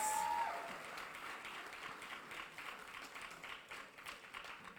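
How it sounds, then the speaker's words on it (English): Applause from an audience at a Black college queens competition, fairly faint and distant, a steady patter of many hands that eases slightly after the first moments. "Give her another big round of applause."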